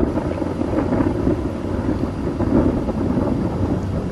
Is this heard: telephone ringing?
no